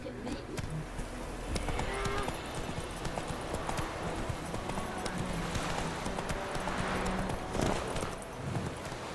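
Roach the horse gallops in The Witcher 3, steady rhythmic clip-clop of hooves pounding close and loud throughout, with faint animal sounds and bits of background noise mixed in.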